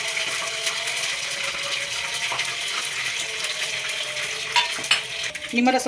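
Continuous sizzling with stirring and mixing sounds as chicken pieces for chicken 65 are mixed with coating, scraping utensil noises and a few clinks near the end, no speech.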